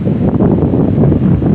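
Strong wind blowing outdoors beside railroad tracks, a loud roaring buffet against the microphone with rumbling gusts throughout.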